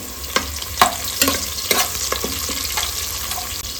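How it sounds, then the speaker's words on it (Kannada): Onions and crushed garlic frying in a pan for a cucumber curry: steady close sizzling with repeated scraping stirs of a spoon, a few sharp clacks against the pan, no voices. "ಈರುಳ್ಳಿ ಚೆನ್ನಾಗಿ ಫ್ರೈ ಆಗಬೇಕು ಎರಡು ಹೆಸರು ಬೆಳ್ಳುಳ್ಳಿನ ಕೂಡ ಜಜ್ಜಿ ಹಾಕ್ಕೊಂಡಿದ್ದೀನಿ ಚೆನ್ನಾಗಿ ಫ್ರೈ ಆಗಲಿ"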